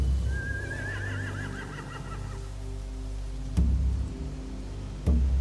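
Horses whinny in a Walking Dead video game: a wavering, rising-and-falling neigh near the start over a low ambient rumble, followed later by two sharp thumps.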